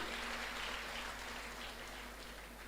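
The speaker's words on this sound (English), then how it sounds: "Give her a big round of applause, by welcoming her to K.S.Rangasamy College of Technology." Faint, steady applause from an audience welcoming the Collector at a college career guidance session, a soft wash of distant clapping continuing for the full length with a low hum beneath it.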